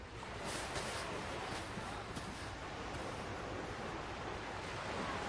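Sea waves wash and break continuously along a shore, a broad steady roar with rolling surges and some wind buffeting, heard throughout with no voices.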